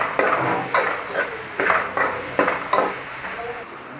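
Chicken and vegetables with black pepper, salt and MSG sautéing in a pan for Hakka noodles: steady close frying hiss broken by repeated rhythmic scraping strokes of a spatula against the pan, with no talk.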